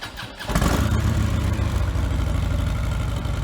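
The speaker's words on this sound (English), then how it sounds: "The first one here is the 2015 Street Glide. Bone stock air cleaner, exhaust system, mufflers," A stock 2015 Harley-Davidson Street Glide with factory air cleaner, exhaust and mufflers fires up and settles into a steady, loping idle, a loud, close, rumbling throb with no voices.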